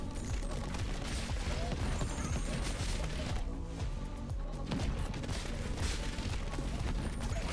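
Dense rapid impacts from an evolved ball in the video game Ball x Pit, a loud continuous barrage of shotgun-like bursts and crunching hits that barely lets up.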